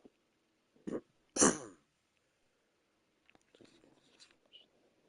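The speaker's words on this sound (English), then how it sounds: "let me clear my throat" A person clears their throat in two sharp, close rasping bursts, followed by quiet faint rustling.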